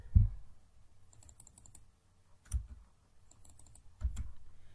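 Typing on a computer keyboard while filling in an e-GP tender data sheet: short, soft bursts of clicking keystrokes separated by quiet pauses.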